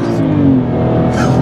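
A 2013 BMW X1 xDrive35i accelerating hard from 0 to 60 mph, its engine roaring loud and steady as heard from close up inside the cabin.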